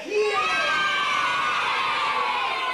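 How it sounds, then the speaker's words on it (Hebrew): A group of children shouts loudly together at an organised group activity, a sustained, full-throated roar that stays strong and close throughout with no pause. "והקבוצה הראשונה צועקת חזק!"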